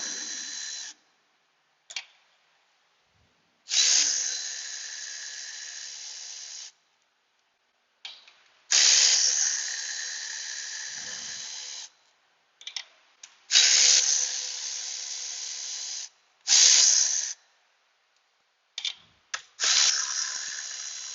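Power tool loosening valve cover bolts on a 2005 Kia Spectra with a valve cover gasket oil leak: repeated bursts of whirring, a few seconds each, separated by short pauses, close and fairly loud.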